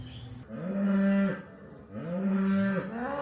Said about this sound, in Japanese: すごいね、牛の合唱が。